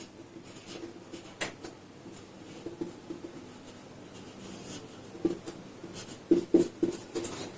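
Pen scratching on paper during a handwritten accounts lesson, with soft irregular strokes and taps, some sharper marks near the end, quiet and close with no talking.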